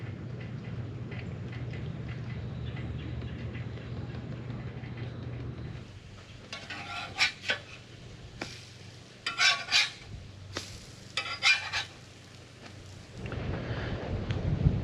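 Food with cinnamon cooking on a stainless steel griddle outdoors at a campsite, with a steady low sizzle followed by bursts of louder crackling and scraping spatula strokes, then the sizzle returning.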